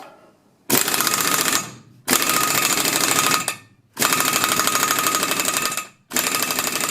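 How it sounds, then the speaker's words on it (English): A heavy air impact gun draws wheel studs into a hub on a 1973 Eagle bus. It hammers in four loud, sustained bursts of rapid rattling, each lasting one to two seconds with short pauses between. "The gun's got the most torque for a few moments, and it'll do the job."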